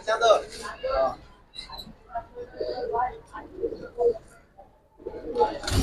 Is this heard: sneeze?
no